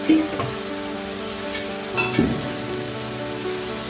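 Vegetables are stirred together with cabbage in a frying pan, giving a steady close sizzle broken by a few scraping stirs.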